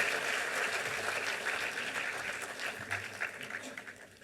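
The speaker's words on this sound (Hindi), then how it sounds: "जोरदार तालियों से आमंत्रण" An audience at the Bharat Mandapam event for Gayatri Pariwar claps warmly to welcome the chief guest, a dense, even patter of applause that gradually tapers off.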